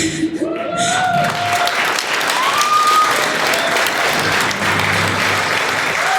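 Wedding guests applaud during a roast of the newly married couple, a loud, dense clapping that fills the room throughout, with whistles and cheering voices rising over it.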